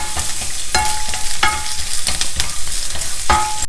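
Peanuts fry in a pan with a steady, dense sizzle, broken by sharp scraping clicks and clatters of stirring spaced through the stretch; no voices.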